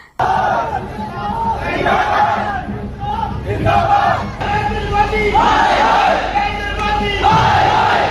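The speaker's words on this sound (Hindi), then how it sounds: "अंदर नारा लगाया जाता है" A dense crowd of protesters packed inside a Delhi Metro station chants and yells slogans continuously, loud and close, with overlapping voices rising and falling throughout.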